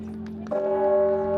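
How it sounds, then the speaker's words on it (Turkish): A church bell at Kazan Cathedral in Moscow tolls with a sustained, resonant ring that swells after a softer start, its tone hanging steadily in the air. "çanlar çalmaya başladı"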